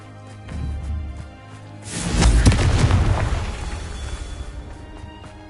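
A Confringo fire spell in Hogwarts Legacy on PS5 bursts into a loud, booming explosion that rumbles and crackles for a few seconds before fading. A softer thud comes just before it.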